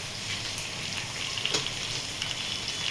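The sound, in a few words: cumin seeds sizzling in hot oil, frying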